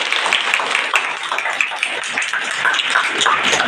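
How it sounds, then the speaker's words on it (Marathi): An audience at a school event claps loudly and steadily, a dense wash of applause from many hands that holds evenly throughout, with a faint voice under it. "मग त्यांच्यासाठी जरा जोरात टाळ्या होऊन जाऊ."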